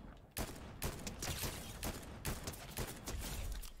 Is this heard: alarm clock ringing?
no